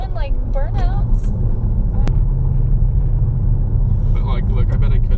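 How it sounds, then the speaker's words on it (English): A 400 HP V8 car with a manual gearbox, held in first gear for burnouts, drones in a loud, steady low rumble throughout, while people inside exclaim and talk over it. "you're in first and revving on it"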